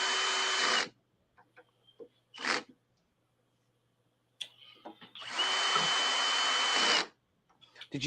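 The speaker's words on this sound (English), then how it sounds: "This drill's getting hot." Power drill whirring in two loud bursts, one brief and one about two seconds long, with a short blip between, as it drills panels for a RatRig V-Core 3 3D printer. Light handling clicks and rustles fill the pauses.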